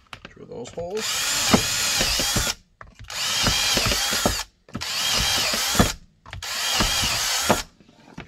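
A power drill bores holes through a carbon fiber OWB holster for an FN 509 Tactical on a workbench, running in four loud sustained bursts of several seconds each, separated by brief pauses.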